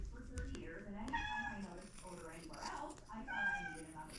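A domestic cat meows repeatedly at close range, with tonal cries coming and going over a few seconds while a person talks nearby during a bowl cozy craft session.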